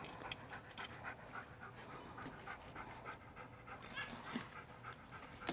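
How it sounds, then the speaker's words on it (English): A puppy pants rapidly and steadily close by on a fishing boat in the Florida Keys, soft quick breaths running throughout with light background activity. "Bo, look at this puppy"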